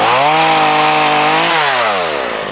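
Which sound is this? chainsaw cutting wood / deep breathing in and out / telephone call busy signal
chainsaw cutting wood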